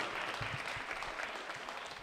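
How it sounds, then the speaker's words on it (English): An audience claps at an Indigenous Peoples' Day celebration at City Hall, a short, steady round of applause from a modest crowd in a hall. "You can go ahead and clap."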